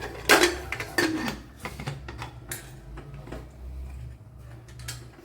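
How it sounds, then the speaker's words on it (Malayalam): Pressure cooker lid being fitted and closed over pineapple pulissery, a few sharp metallic clanks and ratcheting clicks up close, then quieter handling sounds. "ഇനി കുക്കർ ഒന്ന് അടച്ചു കൊടുക്കാം."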